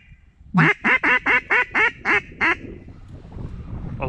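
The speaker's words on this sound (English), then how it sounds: "Look at the ducks right there" A quick run of eight loud, evenly spaced duck quacks, close by in a marsh during a hunt, followed by a low rumble of wind and movement.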